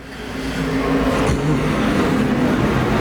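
IMCA stock cars race at Arizona Speedway, engines roaring loudly as cars rev and pass, one sweeping by mid-way over a continuous wall of engine noise.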